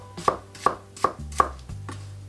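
A knife rough-chops green tomato on a board for a stir fry, four crisp, evenly spaced strikes, then a softer fifth, close and clear with no talking.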